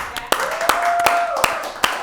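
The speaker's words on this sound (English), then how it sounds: "Go ahead and clap it up for the disclaimer." An audience claps in a few loose, scattered hand claps, fairly faint and spread out over a continuous talk-show background.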